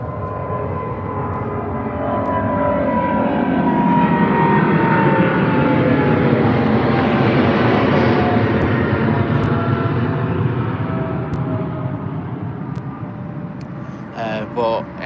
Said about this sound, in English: this is the 777 heading out to New York with British Airways